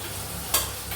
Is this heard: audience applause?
no